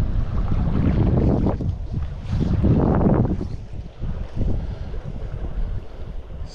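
Gusty wind buffeting the microphone beside a river while fly fishing, a loud rumbling roar that swells and eases in waves, with no talking.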